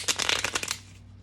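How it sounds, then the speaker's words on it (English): A deck of tarot cards gets a quick riffle shuffle, a rapid flurry of crisp papery flicks about a second long, close and clear with no talking over it. "I'm going to do a couple shuffles here for you."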